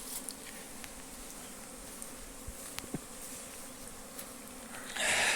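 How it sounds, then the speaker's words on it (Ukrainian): A dense, steady buzzing of many honeybees close by at six-frame hives in an apiary on a sunny day, with individual bees droning past now and then. "Ну і отак працюють наші бджоли."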